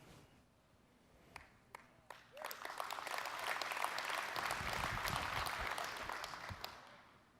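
Audience clapping at an Air Force event begins with a few scattered claps, then swells into full, sustained applause from the crowd.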